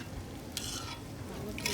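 Chicken chaap sizzles steadily on a grill while grill spice mix is added, a continuous close frying hiss with a brief scrape or stir near the start and again at the end.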